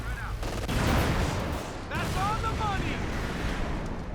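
Anti-tank grenade blast in a WWII strategy game, a dense burst of rumbling explosive noise with scattered gunfire, cut off and followed by a second crackling wave and whistling tones, all under a commentator's voice.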